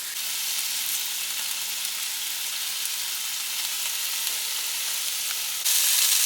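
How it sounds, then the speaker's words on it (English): Sliced onion and peppers frying in a pan, a steady close sizzle that holds evenly throughout and briefly grows brighter near the end. "I'm going to slice it into this pan with these peppers"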